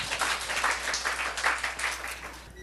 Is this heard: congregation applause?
yes